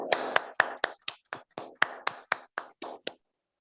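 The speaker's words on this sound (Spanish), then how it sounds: "Vamos a dar un fuerte aplauso a la palabra de Dios que es viva y eficaz." A congregation in a church service claps together in sharp, distinct strikes, about a dozen spaced roughly evenly over three seconds, then stops; clear and fairly close, with no voices.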